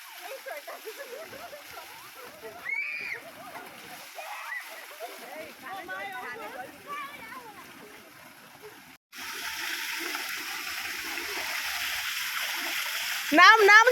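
Water splashes and pours as people bathe at a shallow tube-well pump in a Bankura village, an irregular close splashing that turns into a steady gush, with voices talking and children calling throughout.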